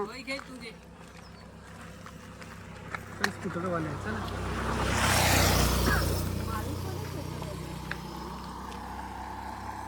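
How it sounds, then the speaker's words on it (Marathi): A motor vehicle approaches on a village road, rising to a loud close pass around five to six seconds before fading, while people talk nearby throughout. "गाडी येत आहे, साईड घेऊ ना एक साईडला"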